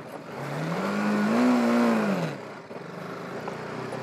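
A BMW 310 GS motorcycle pulls away nearby, its engine note climbing and holding as it accelerates through a gear, then easing off to a quieter idle-like hum.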